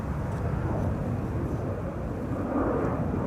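An airliner departing Schiphol's Polderbaan runway 36L roars with a steady broadband jet rumble that stays loud and unbroken throughout, with no voices over it.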